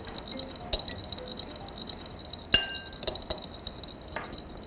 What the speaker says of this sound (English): Just mix this together with our fork.